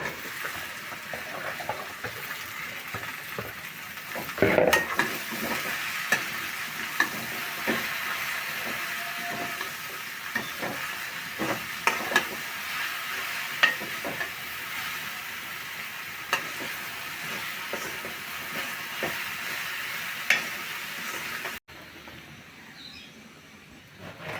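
Okra (ladies' fingers) sizzles and fries in a pan with turmeric and salt, a steady broadband crackle with scattered stirring clicks throughout, cutting off abruptly near the end.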